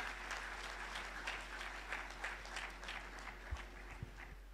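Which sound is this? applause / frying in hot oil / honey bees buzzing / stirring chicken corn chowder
applause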